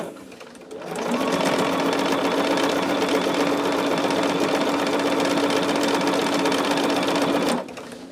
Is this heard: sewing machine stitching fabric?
yes